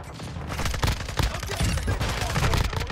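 Dense rapid gunfire in Modern Warfare II's Shoot House map, including shotgun blasts, loud and close with overlapping shots throughout and faint voices under the shooting.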